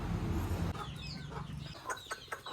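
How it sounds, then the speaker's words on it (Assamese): Chicks in a village yard clucking as they gather for grain, with soft repeated chirpy clucks at close range following a brief low rumble. "তো মুৰ্গী পোৱালিবোৰ আহি গ'ল এইফালে আৰু এতিয়া দানা দিব লাগে"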